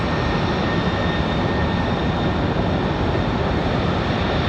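Dense, steady broadband roar of a UPS airliner's engines on the runway at Raleigh-Durham International Airport at night, loud and continuous with a faint high whine running through it.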